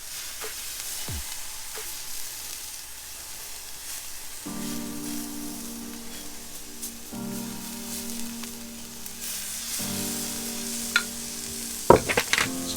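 Vegan ribs brushed with sauce sizzle and crackle steadily in a hot pan, a soft continuous frying hiss with light stirring and a couple of sharper clinks near the end, no voices.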